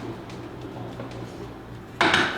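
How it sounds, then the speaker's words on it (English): Grits stirred in a pot with a low, steady background rumble and faint scraping, ending in a sudden louder metallic clatter of utensil against cookware; no one speaks. "I want to get these grits stirred"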